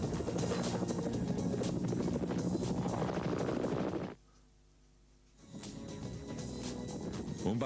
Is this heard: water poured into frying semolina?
no